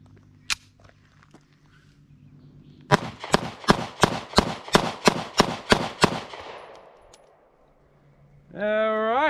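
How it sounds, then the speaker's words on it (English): SCCY CPX-2 Gen 3 pistol emptying a full magazine at a range: about ten sharp, evenly spaced shots in quick succession after a single earlier shot, loud and close, followed by a rising electronic tone. "I'm going to do a mag dump with this other mag here"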